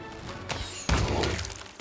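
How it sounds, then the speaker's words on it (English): In the fantasy game Pathfinder: Wrath of the Righteous, a heavy thudding burst hits about a second in with a shattering crack, following a lighter impact and trailing off in a short rumble. "We kind of did an explosion there"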